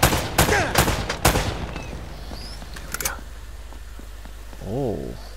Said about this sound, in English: Seem to be getting shot at.